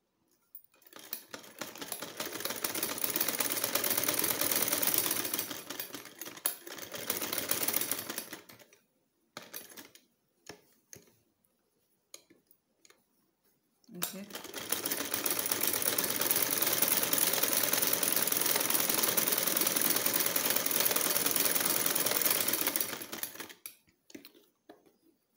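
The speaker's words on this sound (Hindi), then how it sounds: "पाँव के फासले पे सिलाई लगाएंगे" A sewing machine runs in two long bursts of rapid stitching along a shirt cuff for a men's cuff design, with short stops and small handling clicks between runs.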